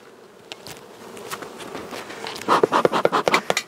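Honeybees swarm and buzz over an open hive colony during queen caging, a busy droning hum that swells louder partway through, with close wing bursts and light scraping of hive frames.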